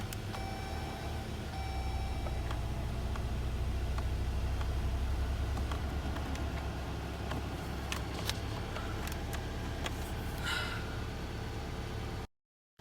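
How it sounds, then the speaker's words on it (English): A Jeep JL idling steadily with a low engine rumble and broadband hiss, close and continuous, with a brief hissing burst near the end before cutting to silence. "Let's turn on the car."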